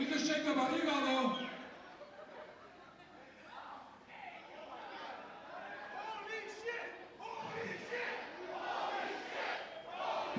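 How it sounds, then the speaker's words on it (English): A packed crowd at a lucha wrestling show chants and shouts together, loud at first, then a mix of rowdy cheering and chatter continuing throughout. "Gotta love a wrestling crowd."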